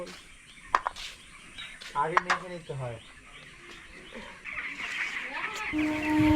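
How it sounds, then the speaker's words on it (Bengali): Chickens at a poultry farm give a few close, clear clucks and calls, with a burst of squawking in the middle and voices faintly in the background. "এটা হচ্ছে মামাদের পোলট্রি ফার্ম"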